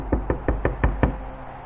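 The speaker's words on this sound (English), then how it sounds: "we heard a sudden knocking sound on the cabin door." Six firm knocks on a wooden cabin door in a steady, evenly spaced rhythm, close and loud, then a quiet pause.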